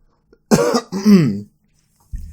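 A man coughs twice in quick succession, two hoarse voiced bursts close to the microphone, followed by quiet and a faint low noise at the end.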